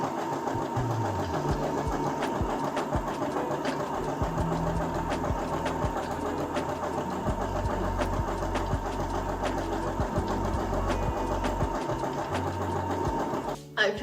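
A sewing machine stitches the internal edges of homemade pants, running in a steady continuous whir with a low motor hum throughout, close and fairly even, then stopping abruptly near the end.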